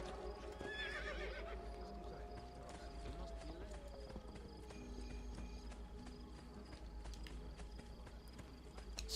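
A horse in Assassin's Creed II whinnies clearly near the start, then hooves clip-clop in a quick, regular rhythm over faint insect chirps in the game world, with a voice talking over it.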